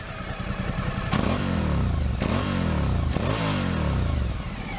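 A Suzuki V-Strom 1000 motorcycle engine revs up hard three times, recorded close to the exhaust, each rise in pitch followed by a quick drop, with a rough idle between.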